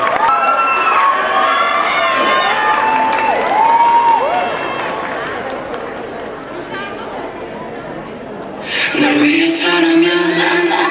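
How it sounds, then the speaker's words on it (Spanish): A crowd at a Christmas festival applauds and cheers for a K-pop group, with clapping, chatter and excited shouts, then music kicks in near the end. "Démosle un fuerte aplauso."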